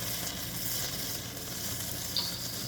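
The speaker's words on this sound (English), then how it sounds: "We're boiling over." Steady sizzling and bubbling from a pot of instant noodles boiling over, a continuous hiss with a brief sharper spit near the end.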